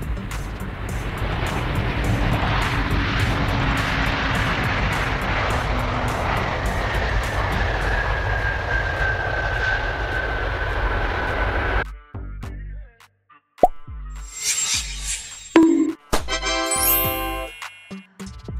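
A large military cargo aircraft's engines roar loudly and steadily for about twelve seconds, then cut away to quieter, scattered sounds.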